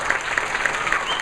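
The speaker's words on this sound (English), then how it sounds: "Big round of applause." Applause from a crowd at a challenge party, steady dense clapping throughout at close range, with no voices over it.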